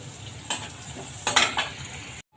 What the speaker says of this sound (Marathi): मिरची पण खरपूस करायची आणि ह्याच तेलामध्ये मग जिरे मोहरी कढीपत्ता पण करून घ्यायचा